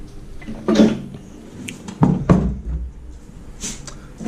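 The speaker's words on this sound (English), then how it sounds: "let me just close this door here" An old house's door being closed: several close, hard knocks and thuds of wood with a sharp latch click, separated by quiet pauses.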